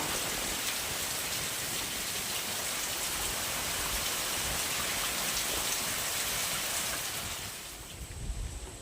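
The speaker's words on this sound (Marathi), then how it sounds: "मस्त मस्त पाऊस आला" Steady, dense rainfall patters on surfaces, a constant hiss that eases slightly at the end with a few louder drops.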